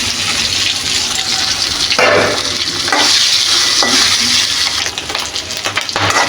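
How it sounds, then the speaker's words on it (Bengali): Boiled eggs dropped into hot oil for alu dimer jhol, a loud, dense sizzle and spatter close by, with stirring bursts surging the crackle before it settles into steady frying. "আমি এখন এই ডিমগুলো ভাজবো। তেল গরম হয়ে গেছে, তেলের মধ্যে দিয়ে দেবো।"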